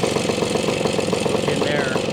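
A 1973 Yamaha ATMX 125 two-stroke motorcycle runs steadily at quarter throttle, a close, buzzy, rapid putter with even pulsing and no pauses.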